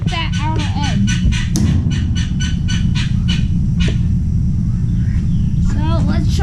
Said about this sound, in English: Hopefully the guineas will let you be able to keep your hearing